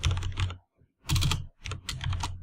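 Fast clicking on a computer keyboard while code is typed in, heard up close in three quick bursts separated by short pauses, with no voices.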